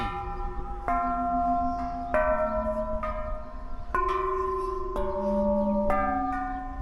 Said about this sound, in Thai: ไปเคาะระฆังกันเถอะ